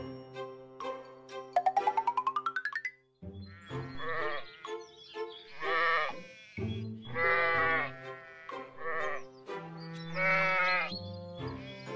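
After a quick rising chime, a cartoon sheep bleats four times in a row, loud and close with wavering, nasal cries and short pauses between them.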